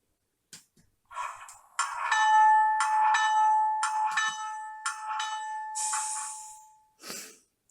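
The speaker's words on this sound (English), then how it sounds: "So there's the bell" Bell of a Bowser Baldwin DS 4-4-1000 model locomotive ringing in a steady series of bright, metallic strokes, about a dozen close, clear chimes over several seconds with a brief hiss at the end.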